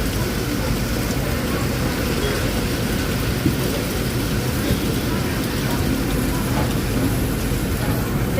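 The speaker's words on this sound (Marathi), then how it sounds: "ते बघा मित्रांनो, किती जास्त जोराने पाऊस आहे." Heavy rain heard from aboard an express train, a dense continuous roar of downpour mixed with rumbling travel noise, loud and unbroken throughout.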